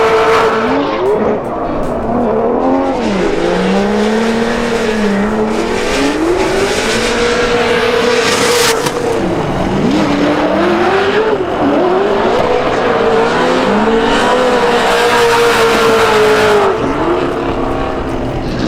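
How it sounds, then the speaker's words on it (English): Supercharged Vortec V8 Falcon drift car on an S chassis, loud and close, its engine wailing and bouncing through continuous rev swings while tires squeal throughout a sustained drift run at a Formula Drift event in Utah. "lay back and listen to the Vortec Supercharged V8 Falcon tires"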